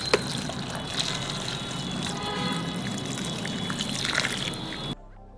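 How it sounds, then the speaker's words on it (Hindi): Water poured from a container onto soil in a metal pan to mix mud plaster, a continuous splashing trickle for about five seconds that then stops abruptly, close by, with no speech. "डाल दो भाई पानी, डालो डालो भाई पानी डालो"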